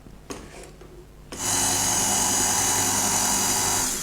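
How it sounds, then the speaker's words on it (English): Red velvet cake batter is whisked in a bowl by an electric mixer, which starts after a second of quiet with a few faint knocks, then holds a loud, steady whir close by. "Just whisk it one more time for about a minute."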